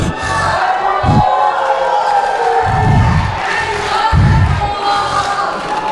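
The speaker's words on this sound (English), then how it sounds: "This is definitely the most energetic and lively crowd I've been in front of thus far here." Lively wrestling crowd at an ETWA independent show, a steady roar of cheering and shouting that keeps swelling in waves, with bursts of yells and loud low thumps of stomping or pounding close by.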